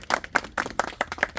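A crowd at a gathering claps in a brief burst of rhythmic, fairly close applause, individual hand claps audible as quick repeated slaps.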